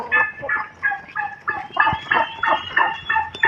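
Backyard chickens and turkeys call in a steady run of overlapping clucks and gobbling cries, fairly close and moderately loud, with no talk over them.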